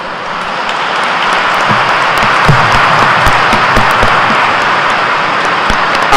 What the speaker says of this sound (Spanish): los acogemos en la familia de los bautizados con un aplauso